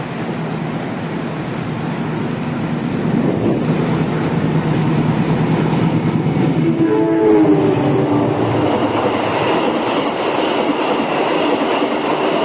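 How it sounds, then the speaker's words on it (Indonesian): The Gaya Baru Malam Selatan train rushes past an abandoned halt in heavy rain, a loud continuous rumble and rattle of wagons over the steady downpour, with a brief horn-like tone partway through. "persiapan kereta api Gaya Baru Malam Selatan"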